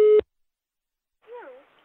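A short telephone line tone sounds at the start of a prank call, then cuts off into silence before a faint voice speaks briefly.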